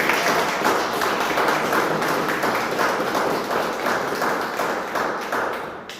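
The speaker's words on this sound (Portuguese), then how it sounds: "Dê uma linda salva de palmas" A church congregation claps steadily in sustained applause, a dense patter of many hands that fades slightly toward the end.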